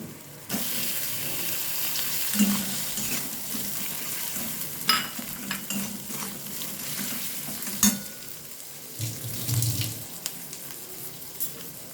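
Chopped tomato and slit green chilli sautéing in a pan, a soft steady sizzle broken by scraping stirs and the clack of a spatula against the metal, heard close and fairly quiet with no voices.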